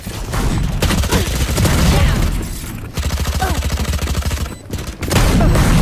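Dense, loud gunfire in a shooter video game, with shotgun blasts in fast repeated bursts and brief pauses between volleys.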